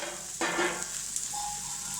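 A Maggi cutlet mixture with tomato sizzles steadily in a pan, a brief close frying hiss with a short stir partway through.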